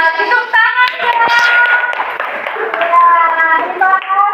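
A classroom of students in an Indonesian language lesson clapping their hands, loud and close, with several children talking and calling out over the clapping throughout.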